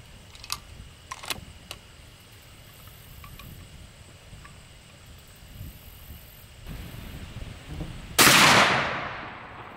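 A rifled-barrel shotgun fires an expanding copper slug outdoors: one loud, sharp blast late in the clip with a decaying tail, after a stretch of quiet ambience with a few faint clicks and taps.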